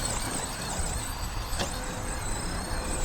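A 55-pound Losi 5ive-TE 3.0 large-scale RC truck drives at a distance, its engine giving a high, steady whine with one brief sharp burst partway through, heard over outdoor background noise.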